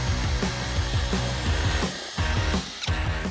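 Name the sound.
drill mixing paint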